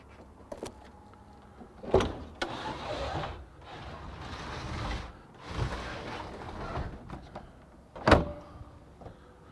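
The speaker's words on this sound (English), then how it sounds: "let me remove this pin here real quick" Pin being pulled from the door of a Huey UH-1H helicopter, heard as a couple of sharp metallic clacks and a sliding scrape of door hardware, with quiet rustling and handling noise between them.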